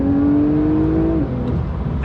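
Twin-turbo 3-litre flat-six of a Porsche 911 992 Carrera 4S, 450 PS, revving up hard under acceleration, with a steadily rising engine note that drops sharply at a gear change, loud and close with no talking.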